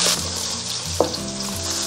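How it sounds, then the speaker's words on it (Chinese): Aromatics stir-fried in melted pork lard for a pickled-cabbage and pork rib stew give a loud, steady sizzle close up, with one sharp clack of a utensil partway through. "融化以后，我们先下入料头炒香"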